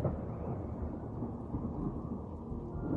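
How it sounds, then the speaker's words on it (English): Rain and thunder in the video game Strayed Lights fill the scene with a heavy, steady low rumble and dense rain hiss, a continuous wash of storm noise with no voices. "We're just running outside into the rain and thunder"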